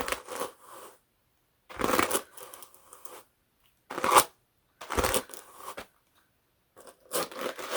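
Carded Clun Forest wool fleece being aligned and rolled into rolags on a wooden floor: soft, dry, papery brushing and crinkling strokes in short separate bursts, about six of them, each lasting under a second with quiet pauses between.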